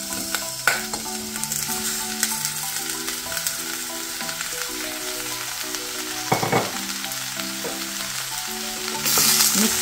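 Green tomato pieces and onions fry in a pan, giving a steady sizzle with a soft melodic tune underneath and a brief louder burst near the end.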